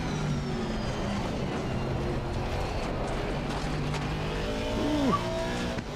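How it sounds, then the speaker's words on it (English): V8 race car engines in a video game driving simulator roar steadily throughout, with a brief tire squeal near the end. "I think these cars here are V8s."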